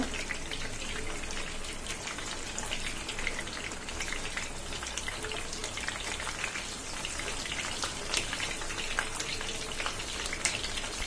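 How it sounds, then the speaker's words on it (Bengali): Pomfret fish fry in hot oil in a wok, giving a continuous, even sizzle with fine spattering crackles throughout, moderately quiet and steady. "এখন কড়াইতে দিয়ে ভেজে ফেলবো মাছগুলো"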